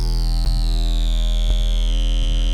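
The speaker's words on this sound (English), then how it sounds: "So what you're hearing is this Spectral morph." A buzzy, sustained synthesizer tone from the Vital synth's spectral morph vocode mode with a metallic, vocoded character slowly sweeps downward, punctuated by a few soft clicks.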